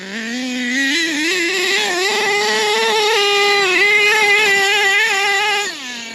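HPI Savage nitro RC monster truck engine buzzing loud and close, pitch rising and falling with throttle blips and revs, on a sunny day outdoors.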